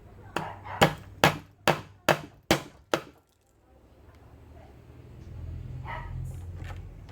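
Seven sharp, evenly spaced hammer blows drive nails to mount an electrical service entrance, then the strikes stop and a low murmur of background noise follows.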